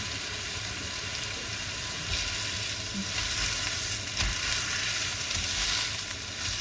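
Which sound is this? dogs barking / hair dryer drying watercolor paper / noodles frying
noodles frying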